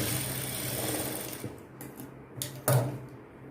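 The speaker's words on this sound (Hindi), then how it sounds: "अब मैं यहाँ पर एक और दबाव वाली सिलाई लगा दूँगी।" An electric sewing machine stitches fabric for an open-back blouse, giving a close, steady mechanical hum with a rapid needle chatter and a few clicks near the end.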